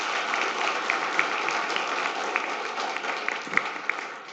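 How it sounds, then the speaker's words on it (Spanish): Audience applause fills a conference hall after a talk on multi-threading, steady clapping from a crowd lasting the whole stretch with a few louder individual claps. "Un aplauso, por favor."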